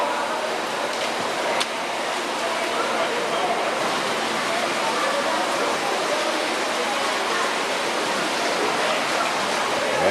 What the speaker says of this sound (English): Now, you see the stream underneath there.